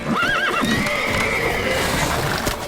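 A horse in The Witcher 3: Wild Hunt on PlayStation 5 gives a loud, wavering whinny over steady clip-clopping hooves, close and clear, with game ambience beneath and no speech.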